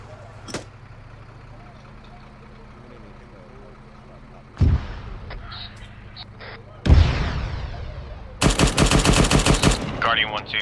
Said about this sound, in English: Nope, that's a mortar coming in.